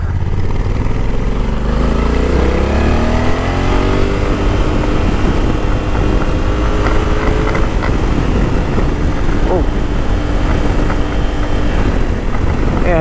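A Honda Africa Twin DCT motorcycle engine revs up and down repeatedly, rising and falling pitch sweeps, loud and close, with no talking.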